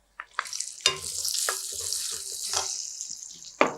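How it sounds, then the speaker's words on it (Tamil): Shallots hit a pan of frying garlic and sizzle loudly, with sharp crackling bursts and stirring clatter over a continuous hiss, heard close and alone. "இப்போ இதோட வெங்காயம் சேர்த்துக்கலாம்."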